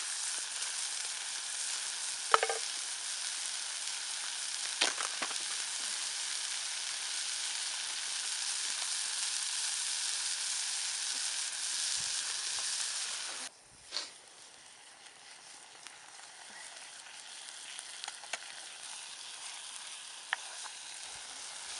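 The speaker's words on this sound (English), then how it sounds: "I'm going to add the hamburger." Hamburger meat sizzles loudly and steadily in a pot over a campsite fire, then drops to a quieter fry with occasional clicks of stirring.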